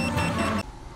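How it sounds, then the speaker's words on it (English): A restaurant pager sounds a loud electronic beeping buzz for about half a second, then cuts off abruptly, leaving quiet background noise. "Our beeper is finally beeping."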